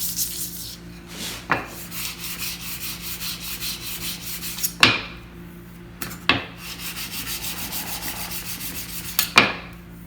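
A card scraper edge is honed with lubricant to cut off the burr, giving a quiet, close rasping rub in light repeated strokes, with a few sharper scrapes between them.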